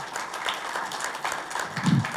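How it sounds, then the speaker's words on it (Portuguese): An audience applauds speaker Thiago Souza as he is introduced at a tech talk on logging with ELK and Beats: a steady, moderately loud wash of clapping from a room of people, swelling briefly near the end. "Salva de palmas, por favor."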